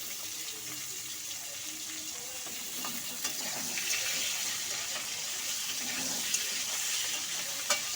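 Pointed gourd pieces fry in oil for a light potato, potol and rohu fish curry, a faint, steady sizzling hiss with occasional soft pops and no talking.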